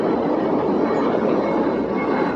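A train rolls past close by, a loud, steady rumble of railcars and wheels that fills the whole stretch without a break, with no voices over it.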